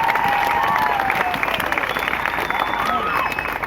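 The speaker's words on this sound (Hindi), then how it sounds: "अब इतनी ताली बजाई दी है" Strong, continuous applause and some cheering from a crowd at a Christian summer youth camp, a full dense roar of clapping sustained throughout.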